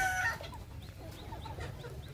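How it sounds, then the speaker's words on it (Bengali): Hybrid Sonali chickens released from a fenced farm enclosure cluck and chirp in short repeated calls at moderate distance, over a low rumbling background, with a brief louder cry at the start. "এখন মুরগিগুলোকে ছাড়িয়ে দিলাম ফার্ম থেকে"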